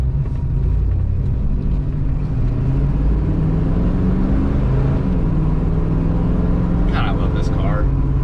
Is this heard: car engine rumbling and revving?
yes